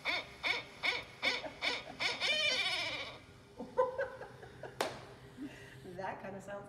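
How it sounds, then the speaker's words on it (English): Playback of a barn owl call: a run of rasping, pulsing cries, with voices talking over the latter part. "this is the barn owl"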